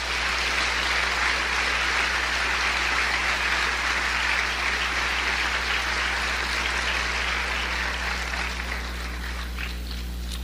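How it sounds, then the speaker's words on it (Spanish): A church congregation applauds during a Spanish-language worship service, with sustained, even clapping from many hands lasting about ten seconds and a low steady hum underneath. "Dele otro aplauso al Señor."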